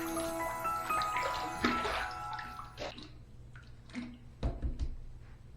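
A Zeva razor rinsed under running water: a close, splashy stream for a few seconds, then scattered drips, taps and knocks as it is shaken and handled.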